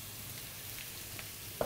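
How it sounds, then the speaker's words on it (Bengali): Dried fish frying with browned onions in a pan sizzles quietly and steadily, a soft, even crackle with faint pops throughout. "পেঁয়াজটা একটু লাল করে তারপর শুটকিটা দিলাম, একটু ভুনাভুনা করে নিলাম"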